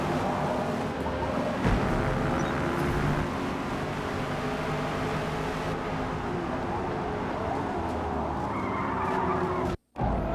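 A race car engine in the video game Forza Motorsport roars steadily with screeching tires and skidding, loud and constant, briefly cutting out near the end.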